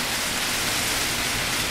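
Steady rain pours during a storm, a dense, even hiss that holds at a constant level throughout with no breaks.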